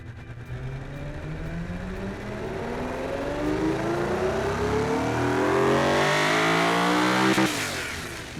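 A V12 supercar engine in the game Automation revs steadily upward in pitch toward 7,800 RPM for several seconds, a smooth, muffled roar that peaks and briefly drops off near the end.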